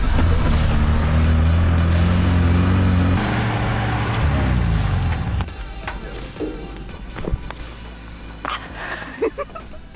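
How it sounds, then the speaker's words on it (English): Dune buggies in the Huacachina desert in Peru: a loud, rough engine drone for the first half, then fading, uneven engine sputters and scattered sharp pops typical of a backfiring motor. "I do feel like our cars may be broken because it keeps backfiring"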